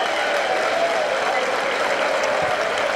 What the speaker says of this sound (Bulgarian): Аплодисменти от домакинските привърженици